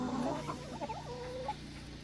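Black Sussex chickens in a mixed flock cluck and murmur close by, a few soft rising and falling calls over a steady low background hum.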